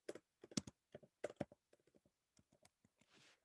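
Typing on a computer keyboard, a run of quick clicky keystrokes in irregular bursts, close and clear with no talking, ending in a short soft rustle.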